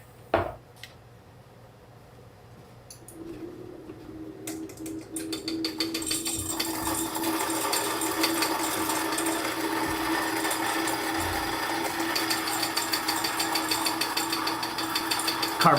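An electric coffee grinder starts after a few seconds of quiet handling clatter and builds into a loud, steady, gritty whir grinding coffee beans for a V60 brew, continuing to the end.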